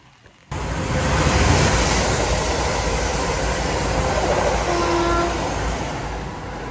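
Class 710 train passing on the line to London Euston, a loud rushing roll of wheels and carriages that starts suddenly and holds steady close by, with a brief tonal squeal midway.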